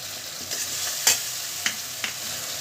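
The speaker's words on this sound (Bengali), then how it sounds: "হলুদ গুঁড়ো জিরে গুঁড়োগুলো দিয়ে দিচ্ছি এক চামচ হলুদ গুঁড়ো" Turmeric and cumin powder go into a pan for an echor chingri curry, giving a steady low sizzle broken by a few sharp spoon scrapes and taps.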